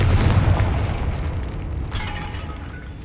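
Confringo blasting spell going off in the Hogwarts Legacy video game, a single heavy boom with a deep rumbling tail that slowly fades, loud and close with no talking.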